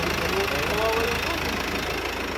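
A newly delivered truck's engine idles at a garage, a steady low mechanical rumble with faint knocking, close and continuous while people talk over it.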